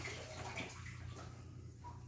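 Hot and cold water run from a tap into a bowl for quick-rising pizza dough, a continuous soft gushing flow at close range with no talking.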